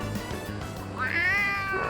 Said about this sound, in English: Your bento just meowed. Is there a live cat in there?